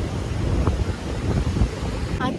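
Sea waves and wind on the shore at Dapoli, a continuous low roar of surf with gusty wind buffeting the microphone throughout.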